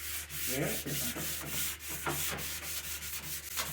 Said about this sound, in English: And I'll just sand that down just to give it a smoother finish.